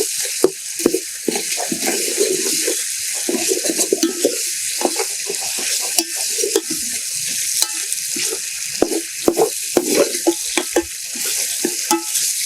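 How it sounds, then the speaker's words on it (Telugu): Ginger garlic paste frying in oil in a pan for Muslim-style dalcha, a loud continuous sizzle with repeated spatula scrapes and stirring strokes, close up with no talking. "ఇప్పుడు అల్లం వెల్లుల్లి పేస్టు 2 కలిపి ఒక 50 గ్రాములు వేసుకొని బాగా ఉడికించుకుందాం పచ్చివాసన పోయేదాకా"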